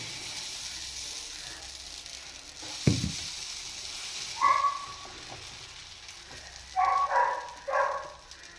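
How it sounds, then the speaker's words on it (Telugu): Onion dosa batter for village-style ulli karam dosa meets a hot, small pan, producing a soft continuous sizzle with a sharp thud and a few brief clinks and scrapes, no voices. "ప్యాన్ బాగా హీట్ ఎక్కింది కదా, సో ఇప్పుడు దోశను వేసుకుందామండి"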